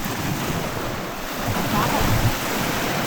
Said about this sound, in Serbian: ovi talasi ovako, baš je lepo